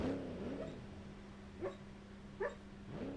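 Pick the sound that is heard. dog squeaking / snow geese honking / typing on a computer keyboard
dog squeaking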